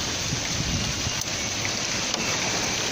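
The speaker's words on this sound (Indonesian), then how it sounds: "Lihat hujan es sedang jatuh." Hail falls on a street in Makkah, Saudi Arabia, heard from a hotel room: a dense, steady hiss of pelting ice that stays even and continuous throughout.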